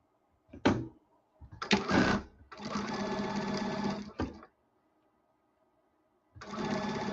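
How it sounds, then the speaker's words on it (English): A serger sewing machine stitches fabric for doll clothes in several short bursts separated by pauses: a quick stitch, a longer whirring run of about two seconds, then another run after a silence. "So I'm going to go quickly just serge this to see how I like it."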